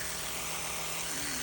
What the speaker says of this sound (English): use my handy dandy auto toothbrush, and that really helps